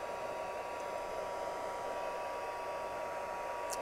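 A heat gun blows steadily to dry watercolor paint on a handmade card, a constant close whooshing roar of airflow throughout with no talking.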